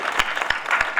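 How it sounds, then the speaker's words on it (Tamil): Village crowd applauding for a man named Murugan at an outdoor drama performance, brisk scattered clapping with a few sharp, distinct hand claps standing out. "முருகனுக்கு ஒரு கைதட்டு கொடுக்கலாம்."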